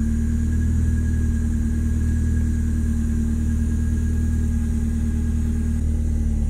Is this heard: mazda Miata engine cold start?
yes